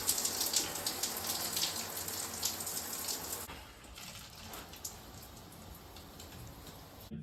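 A new handheld shower head sprays water in a bathroom, a steady hiss of spray that drops to a softer trickle partway through, with faint drips and splashes afterward and no talking.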